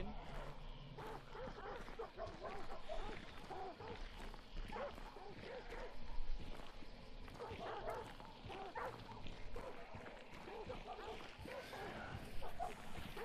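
Dogs in a kennel cage in the Hunt: Showdown game bark and whimper in scattered bursts at moderate distance, mixed with game ambience while voices talk over them.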